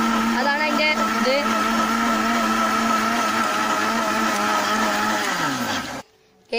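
A blender whirs loudly and steadily while blending green mango juice with sugar, its motor pitch shifting slightly before it abruptly cuts off near the end, leaving brief quiet.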